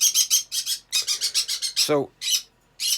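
Pet birds squawk loudly and close by in a rapid series of harsh, repeated bursts, with one call sliding downward in pitch. A person briefly speaks under the noise.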